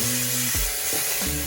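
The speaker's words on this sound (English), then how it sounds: "Make sure they over here sizzling and doing what they gotta do." Chicken sizzles in hot oil in a pan, a continuous bright hiss with a few low clunks as pieces shift or are stirred; close and steady, no talking.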